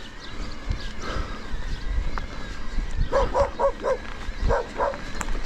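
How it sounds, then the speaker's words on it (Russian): Dogs bark outdoors beside a road near Yalta in Crimea, giving a few clustered barks at moderate distance after a quiet stretch, with faint background noise and no talk. "Собаки."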